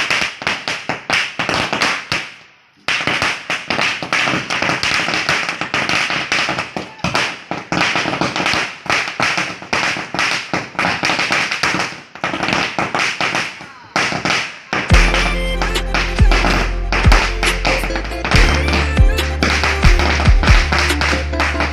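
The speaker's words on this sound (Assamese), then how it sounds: "আৰু এতিয়া বোমা মাৰিলোঁ" Diwali firecrackers going off in a rapid, crackling barrage of loud sharp bangs, briefly pausing, then a second burst accompanied by music.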